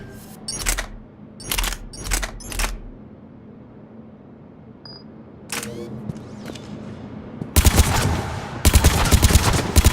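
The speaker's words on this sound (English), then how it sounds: "Oh, burst fire." Burst fire from the M8 Avenger assault rifle in the Mass Effect 3 video game, several short sharp volleys near and loud, with pauses between, then denser rapid gunfire toward the end.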